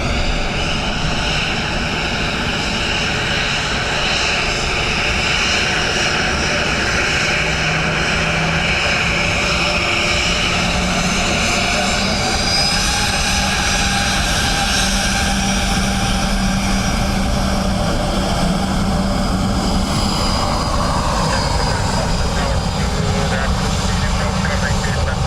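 A propeller-driven plane on approach to the southern runway at Dublin Airport in crosswind conditions, a loud continuous engine roar that holds steady and shifts slightly in pitch near the end, with a voice talking over it.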